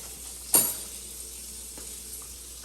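Salmon fillet frying in a pan just after being flipped, giving a steady, quiet sizzle with one sharp clatter near the start and a small knock at the end.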